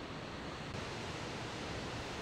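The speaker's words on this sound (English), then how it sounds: "Welcome to Mitchell Falls, probably the most famous waterfall in all of Australia." Mitchell Falls waterfall in Australia roars as a steady, dense broadband wash of falling water, loud and unbroken, with no voices.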